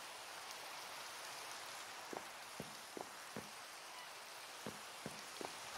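Steady broadband hiss of rain falling in the Minecraft video game, fairly faint, with a few sharp short clicks popping out over it at irregular intervals; no talking.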